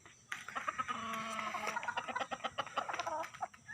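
Chickens and roosters cluck in a quick, lively run of calls close by, with short bursts stacking over a faint farmyard background and no voices.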